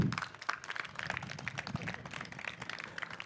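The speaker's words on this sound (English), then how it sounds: "Here's applause" Audience applause at a HiveFest 2023 conference session, a steady patter of many hands clapping at moderate level for a few seconds, fairly distant, with no talking.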